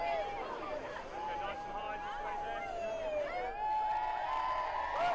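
A crowd lines a street in Worcester and cheers the 2012 London Olympic torch relay, heard as a steady wash of cheering and babble at moderate distance, with a whistle-like tone gliding through it.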